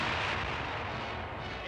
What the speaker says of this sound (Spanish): Disparo de bazucas en una ciudad alemana.